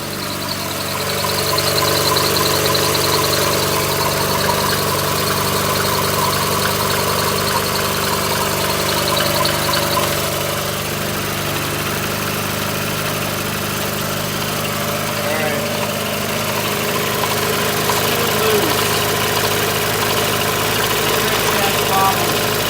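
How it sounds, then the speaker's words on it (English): A car engine idles steadily after its airbox has been reinstalled, a continuous rough mechanical drone with a faint knocking texture, heard close by for the whole stretch. "It's idling a little bit better."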